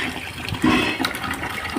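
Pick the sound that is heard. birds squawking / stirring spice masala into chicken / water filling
water filling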